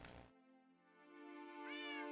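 A cat in Minecraft gives a drawn-out meow that rises in pitch near the end, clear and alone with no talking over it.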